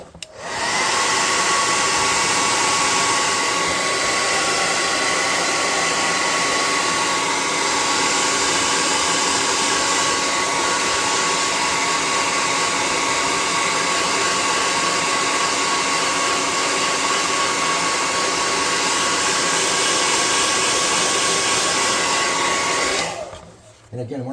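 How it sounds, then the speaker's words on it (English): An air gun blows steadily for over twenty seconds to dry brown paint on a tabletop-gaming miniature, a loud, constant hissing whoosh that stops abruptly at the end. "I'm going to dry him with the air gun."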